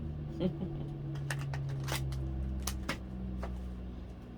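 Tarot cards being shuffled in quick riffling bursts over a steady low hum, fairly close and moderately quiet.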